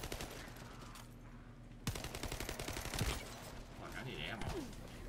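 Rapid bursts of gunfire from a shooter video game, with dense automatic fire crackling over game music and a loud burst near the middle, under a streamer talking.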